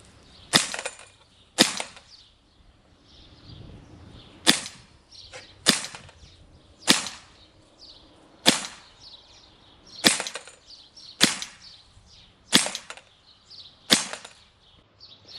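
Beretta M9A3 4.5mm CO2 BB pistol fires eleven sharp, loud shots at a steady pace, each a crisp crack with a short ring, the last ones leading to an empty magazine with the slide locked back.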